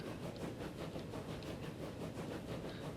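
A train rolling along in Transport Fever, a steady mid-loud rumble with a faint rhythmic clatter, no voices.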